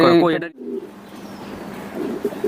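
A pedigree racing pigeon coos softly in a loft after a person speaks briefly, the low murmuring calls faint and close against quiet background noise.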